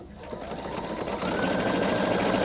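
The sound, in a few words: Pfaff Creative 3.0 sewing machine sewing a tapered stitch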